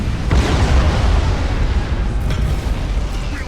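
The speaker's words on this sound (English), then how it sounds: "the ship is obliterated by a hail of missiles and corruptor cannons" A warship in the space strategy game Battlefleet Gothic Armada 2 is torn apart by missiles and corruptor cannons, a loud, rumbling wall of explosions with sharper bursts punching through the continuous roar.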